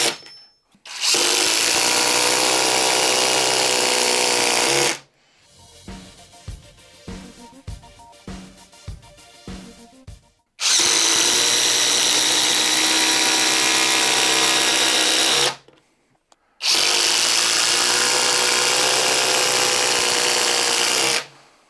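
A Ridgid 4-mode impact driver drives long fasteners into timber in loud, sustained bursts, each several seconds long, separated by brief pauses and a stretch of lighter clicking and tapping between runs.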